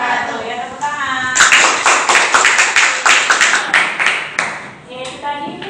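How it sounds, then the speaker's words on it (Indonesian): A classroom full of students clapping hands together, a dense burst of rapid claps under a teacher's voice, starting after a short spoken line and tapering off toward the end. "tepuk tangan"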